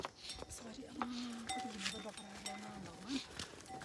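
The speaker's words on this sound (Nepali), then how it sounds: "भैँसी यति ठुलो भैँसी आएको छ" A large water buffalo comes down a path near a village, giving low, drawn-out animal calls over steady outdoor background noise, fairly close.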